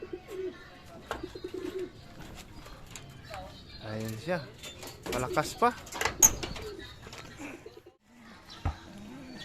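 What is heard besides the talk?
racing pigeon cooing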